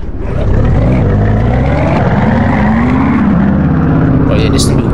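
Corvette C8 engine in a video game roars steadily at high revs, pitch climbing and dipping slightly, with a voice talking over the loud drone.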